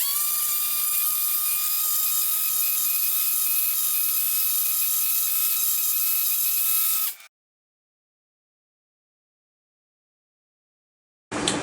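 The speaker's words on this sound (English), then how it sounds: "I'd give these little blocks that we cut out a quick sand" Small hand-cut wooden blocks being sanded for a DIY scaffold build, a loud steady whirring abrasive buzz running continuously up close for about seven seconds, then silence, with a brief burst returning at the very end.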